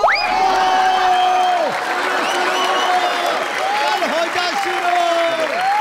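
A studio audience applauds a singer on the stage of a Marathi comedy show, a dense burst of clapping mixed with sustained voice-like tones.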